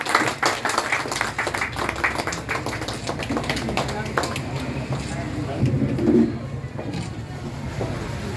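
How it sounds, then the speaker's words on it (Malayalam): An audience at a library ceremony honouring teachers claps steadily for several seconds in a dense patter of applause, with a voice speaking over it. "നല്ല കയ്യടി."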